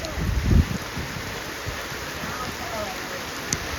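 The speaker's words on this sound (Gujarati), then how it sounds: "વરસાદ બાર વરસી રહ્યો છે" Steady rain falls in a continuous hiss, with a brief muffled thump near the start and a faint click later.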